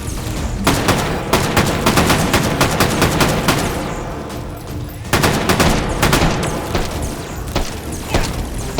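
Loud, close automatic gunfire in the H3VR virtual reality shooting game: two long rapid bursts of shots, separated by a brief pause of about a second near the middle.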